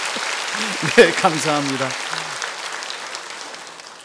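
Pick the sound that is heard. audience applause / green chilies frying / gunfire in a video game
audience applause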